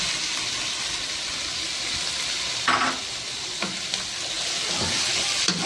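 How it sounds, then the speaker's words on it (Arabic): Diced tomatoes sizzle steadily in a hot frying pan for breakfast shakshuka, with a few brief scraping stirs cutting through the continuous frying hiss. "هننزل بالطماطم اللي احنا مقطعينها مكعبات صغيره"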